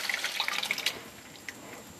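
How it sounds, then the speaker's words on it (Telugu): Water poured from a vessel into mashed tamarind in a bowl while making chutney, a splashing trickle for about a second that fades, then a single light drip near the end. "మనం ఎంత చింతపండు తీసుకుంటామో దానికి తగినంత వాటర్ యాడ్ చేసుకోవాలండి"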